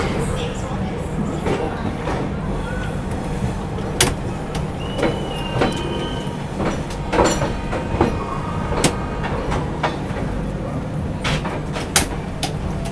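The Mahabodhi Express pulls out of New Delhi railway station, with a steady rumble of rolling stock, rhythmic wheel clicks and clunks, and station bustle in the background while someone talks over it.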